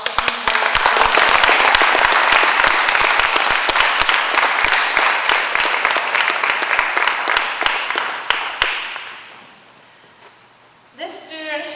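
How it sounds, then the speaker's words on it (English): A graduation audience at an urban Aboriginal alternative high school bursts into loud, sustained applause with crowd noise for a graduating student, dense clapping that gradually dies away before a voice resumes at the end. "let's give him a round of applause for his work"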